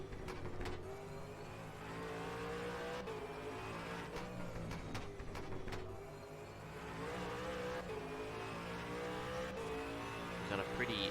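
A V8 Supercar race car lapping the Adelaide Parklands street circuit in a Super 2 warm-up session, its engine revving and rising through gears with repeated downshifts and sharp crackles, steady and prominent under faint commentary.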